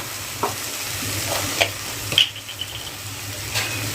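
Ground spices with turmeric and cumin powder being stirred and frying in hot oil for a ridge gourd vegetable dish, a soft steady sizzle with a few scraping spoon strokes, close and alone.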